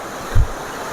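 A jungle waterfall gives off a steady, broad rushing roar of falling water, heard alone at moderate distance, with a brief low thump partway through.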